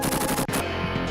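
Rapid gunfire from a cheesy 1980s-style action shooter on a retro Nintendo console, a dense burst of repeated shots through most of the clip with a brief gap midway and a sustained, steady loudness throughout.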